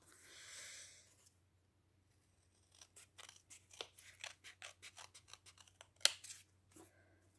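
Scissors cut through two stacked sheets of card paper for a handmade card, a quick series of close, crisp snips following a brief rustle, with no talking.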